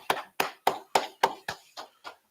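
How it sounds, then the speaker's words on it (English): A group at a religious brotherhood class claps in unison, eight sharp, evenly spaced claps about a third of a second apart, close and moderately loud, growing slightly softer toward the end. "go ahead and clap it up, clap it up"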